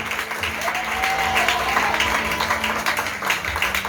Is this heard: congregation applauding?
yes